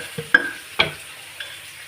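Onions, curry leaves and green chillies being sautéed in a pan, with a few sharp stirring clanks of a spoon against the metal over a faint, quiet sizzle.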